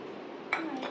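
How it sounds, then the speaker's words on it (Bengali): A metal pot lid is flipped over in a home kitchen while cooking, giving a single brief clink of metal near the middle against low background noise. "হাঁড়ির ঢাকনাটা উল্টো করে দেবো"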